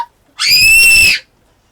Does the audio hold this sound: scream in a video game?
yes